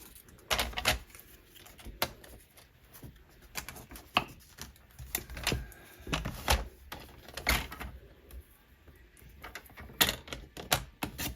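Paper card is cut in two with a paper trimmer, giving a series of sharp, close clacks and sliding scrapes in an irregular rhythm, with no talking.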